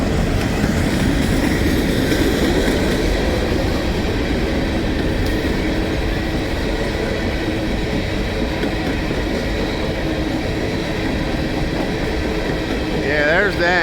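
MILX General Electric Railcar Corporation unit train passing close by, a loud continuous rumble and clatter of railcars rolling past without letup, with a brief squeal near the end.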